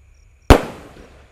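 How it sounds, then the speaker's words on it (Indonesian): A tank-style firecracker going off outdoors at night, a single sharp, loud bang followed by a brief decaying crackle and rumble, with no talking. "Kita nyalakan malam ini guys. Sudah menyala guys."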